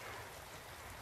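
Rain falls steadily onto a swollen shallow stream near a house in a Korean film scene, a continuous hiss of rushing water and patter, faint and even throughout.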